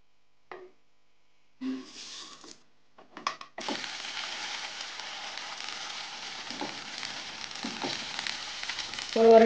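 A rava uttapam flipped in a pan, a few soft scrapes and taps followed by a steady moderate sizzle that runs on continuously to the end, with a louder clatter at the close.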